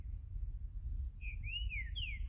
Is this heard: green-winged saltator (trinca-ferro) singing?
yes